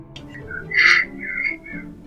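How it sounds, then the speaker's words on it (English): A crow calls a few times outside, short whistling squawks rising and falling, one louder cry in the middle, with no talking. "There's a crow outside."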